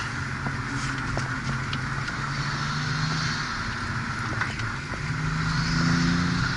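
A Porsche 911 997 Turbo drives a twisty road, its engine a low, moderately quiet rumble that swells and eases through the turns under steady road and wind noise.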